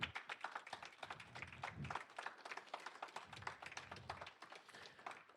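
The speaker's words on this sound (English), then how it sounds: "Clap it up for the sponsors." Audience at a student DevOps/blackteaming education session clapping for sponsors, quiet scattered hand claps from a small group, fairly faint and irregular, with a low murmur of voices underneath.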